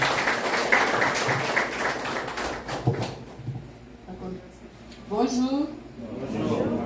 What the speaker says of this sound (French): applaudissez ces deux dames qui s'appellent Olène François